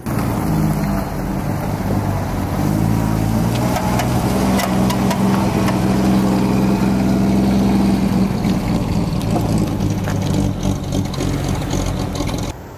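A 1929 Rolls-Royce saloon engine idles steadily on its magneto nearby with a low, even chugging rumble that holds throughout, with faint mechanical ticking on top.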